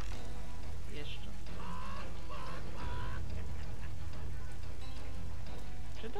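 Faint duck-like quacks come in short bursts from Call of Juarez Gunslinger, set against a steady patter resembling rain, with someone talking over part of it.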